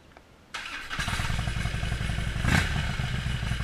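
A Harley-Davidson Road King motorcycle engine starts with a thump and settles into a loud, steady, close rumbling idle with a brief surge partway through; no one speaks.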